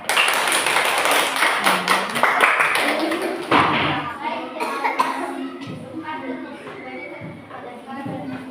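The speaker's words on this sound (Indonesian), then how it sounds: "Oke, beri tepuk tangan buat mereka." Students applaud in a classroom during a teaching practice session, brisk clapping at first that fades into children's chatter, bumps and a cough or two.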